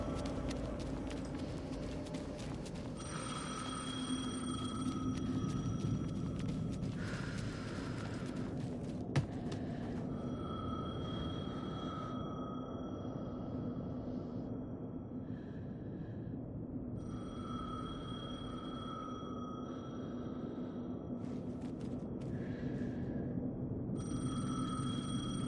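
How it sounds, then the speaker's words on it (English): A telephone rings repeatedly in Alan Wake 2, its bursts of bell tone recurring at regular intervals over a steady, droning game ambience, with no talk. "The phone again."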